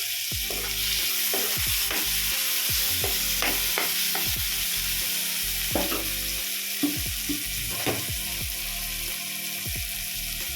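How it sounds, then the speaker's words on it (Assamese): Browned onions and chopped tomatoes fry in a pan, giving a steady sizzle with frequent sharp scraping and stirring clatters from a spoon. Everything sits close and moderately loud, and no one talks. "পিঁয়াজখিনি ৰঙচুৱা হ'ল, কাটি থোৱা বিলাহীখিনি দি দিছোঁ"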